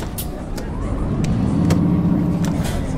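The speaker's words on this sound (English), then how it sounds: "The bus just wheel spins and doesn't go anywhere." A bus in Euro Truck Simulator 2 sits with its wheels spinning, a steady engine drone with a low rumble that swells slightly over three seconds, plus a few sharp high clicks, fairly loud and continuous.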